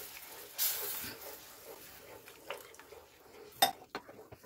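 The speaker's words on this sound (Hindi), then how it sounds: "इस तरह से चलाते रहें वरना इसमें लम्ब भी बन सकते हैं" Spoon stirring besan halwa batter in a pan, soft scraping and swishing with a couple of sharper clinks against the metal, close and fairly quiet, with no talking.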